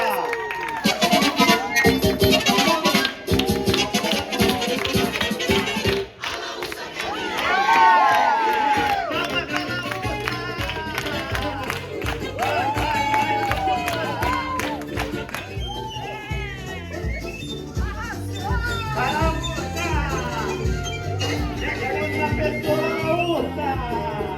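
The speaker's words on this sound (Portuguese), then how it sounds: "Palmas pra Laúça" A studio audience at a Brazilian family TV show cheers, whoops and applauds loudly in continuous bursts, with shouts and music-like tones mixed into the crowd noise.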